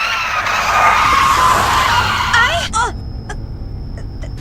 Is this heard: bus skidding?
yes